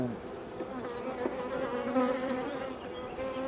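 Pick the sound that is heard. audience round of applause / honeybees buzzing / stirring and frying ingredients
honeybees buzzing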